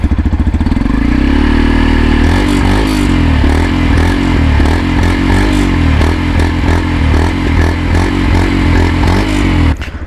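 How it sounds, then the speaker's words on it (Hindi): A Yamaha motorcycle engine with its stock exhaust runs loud and close, its exhaust note rising and falling as the throttle is blipped repeatedly. "निकलने से पहले इसका एग्जॉस्ट नोट एक बार सुन लेते हैं"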